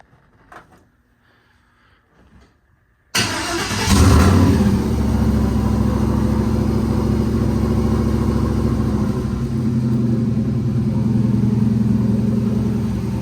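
After near silence, a 1971 Mercury Comet's turbocharged LS V8 with Holley EFI cranks and fires, then settles into a loud, steady, rumbling idle close by.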